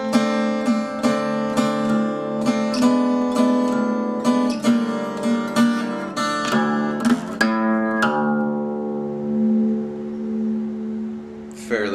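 Guitar plays the opening of a song, open strings among the plucked notes, a close run of picked notes and chords for about eight seconds before a final chord rings out and fades.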